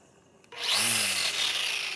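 A Makita weed eater starts trimming weeds, its motor whirring up quickly to a high, steady whine after a short quiet moment.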